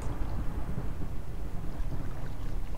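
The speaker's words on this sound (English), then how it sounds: "This is a storm." Steady heavy rain and low storm rumble from a thunderstorm in a tornado survival video game, a continuous dense wash of noise with no voices.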